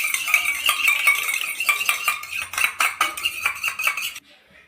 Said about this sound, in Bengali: ডিমটাকে ফেটে নিতে হবে।